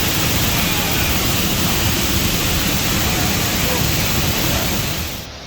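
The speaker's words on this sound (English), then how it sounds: "We're under a waterfall!" Steady, loud roar of a waterfall heard from directly beneath it on a Brecon Beacons walk, a dense continuous wash of falling water filling the whole clip before easing off slightly at the very end.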